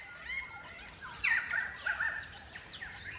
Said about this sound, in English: So it's time for crimson rosellas to start breeding again.